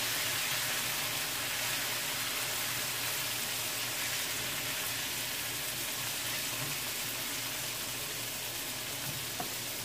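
Shrimp sizzle steadily in a hot frying pan as they are turned over, a dense, loud, continuous hiss and crackle with faint clinks of the utensil.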